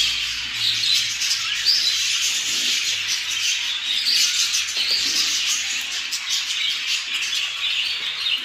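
A budgerigar chick chirps and squeaks steadily while being hand-fed warm formula, with a soft rubbing texture underneath. The high chatter stays close and continuous throughout.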